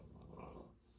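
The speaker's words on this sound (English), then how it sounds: "These dogs are pretty obnoxious, the way they snore." Coda, a napping dog lying on the floor, snores with a low, rumbling, growl-like breath, steady and faint in a quiet room.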